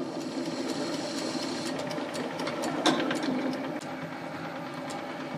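A metal lathe runs nearby in a home machine shop, giving a steady mechanical hum with a regular ticking rhythm and one brief clank partway through, with no talking.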